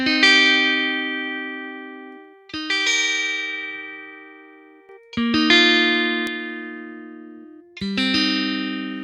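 Four strummed electric guitar chords through a direct amp preset ring out one after another, each decaying slowly with a bright, slightly driven amp tone and no talking.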